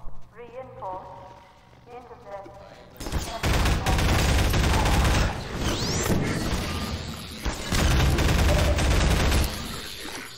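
Half-Life 2 gunfire erupts as loud, dense volleys of shots that fill most of the stretch in two long bursts. A brief voice is heard before the shooting starts.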